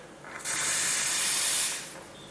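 Espresso machine steam wand purged in a quick, loud burst of hissing steam that swells, holds steady for about a second and then tapers off, with no talking.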